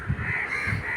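A crow caws twice in quick succession, harsh and fairly close, outdoors in the evening with no talk over it.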